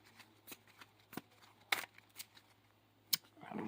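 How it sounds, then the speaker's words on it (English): Cards from a Dark Magician trading card deck being shuffled by hand, quiet riffling snaps in short irregular bursts, close and faint with no talking. "I don't know why I'm shuffling."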